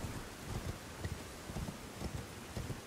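Soft, rhythmic hoof clops of a horse in Elden Ring, faint and steady under a constant wash of ambient noise.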